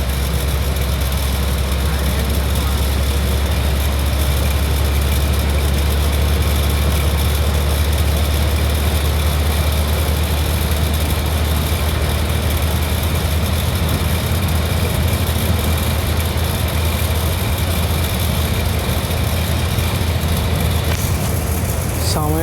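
A BS6 Mettupalayam–Kumuli bus engine drones steadily with a deep, loud, constant rumble throughout, under occasional talk from people on board.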